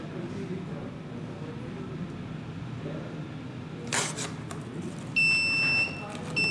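A clean room display's temperature alarm sounds as steady high electronic beeping tones that come on partway through, loud and held for about a second, after a stretch of room hum and talking.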